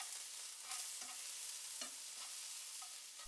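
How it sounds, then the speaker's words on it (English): Eggplant being stirred with garlic and sugar in a frying pan, a low sizzle under repeated scraping strokes of the utensil, close and steady with no talk. "Thoroughly stir the garlic through the eggplant."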